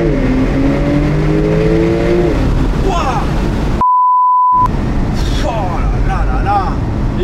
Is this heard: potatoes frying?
no